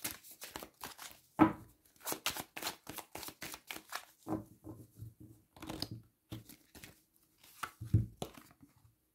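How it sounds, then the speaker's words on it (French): Tarot cards being reshuffled by hand in a cartomancy reading, a long run of quick crisp riffling and slapping bursts in close succession, near and clear with no talk over it. "Je remélange parce que je veux choisir la carte."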